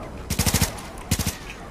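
Suppressed gunfire in Tom Clancy's The Division video game: two close bursts of muffled shots, a quick string of about five, a pause, then three more.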